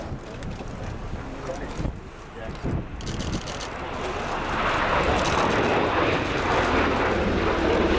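A USAF CV-22 Osprey tiltrotor flying at the RIAT 2015 air show, a rough rumbling rotor and engine drone that swells louder toward the end, mixed with wind buffeting on the microphone.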